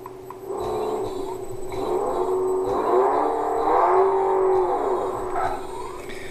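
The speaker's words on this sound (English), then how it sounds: "If I start the motor" Electric motor driven by a SEW Eurodrive Movitrac B inverter spins up, giving a rising and falling tonal whine with a steady hum underneath, moderately loud and close.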